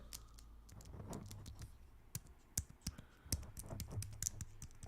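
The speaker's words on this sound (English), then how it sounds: "I can confirm that my keyboard is not great, but still functional." Quiet, uneven keyboard clacking close by, individual keys tapped in irregular bursts over a faint background hiss.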